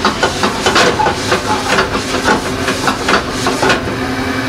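Olive oil heating in a pan on the stove while making meat sauce, giving a steady sizzling hiss with soft crackles throughout, fairly close.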